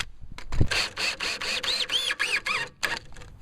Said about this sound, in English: I'm gonna run these 2-inch screws in there, and I'm gonna countersink them